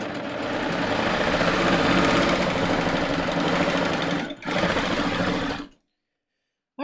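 A serger sewing machine stitching fabric while sewing pants runs loud and close in a steady mechanical whir, dips briefly, picks up again, then stops abruptly into silence.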